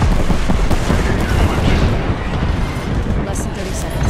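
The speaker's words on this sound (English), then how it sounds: "Airstrike." Airstrike explosions in the video game Apex Legends, a dense rolling barrage of loud booms and blasts filling the whole stretch, with game voice lines mixed in.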